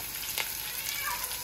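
Okra frying in a pan with onion, green chili and salt, giving a steady hiss of oil sizzling close by, with a faint stir or clatter near the start and no talking.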